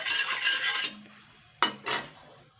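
A pot of hot salted water is stirred before rice flour goes in, for a Bengali pitha: a brief scraping swirl, then two sharp utensil clinks against the pot, close and fairly quiet.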